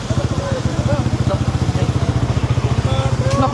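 A motorcycle engine running steadily at close range with a regular pulsing throb, carrying three riders including a baby at a roadside traffic stop, under faint voices.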